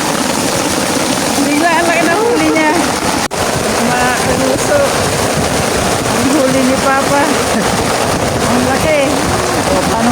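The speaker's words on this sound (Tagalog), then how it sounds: "Kung kailan bumuhos ang ulan." Heavy rain pours down on a small fishing boat, a dense steady hiss and splatter filling the whole clip while an engine hums underneath and several people talk and shout over it.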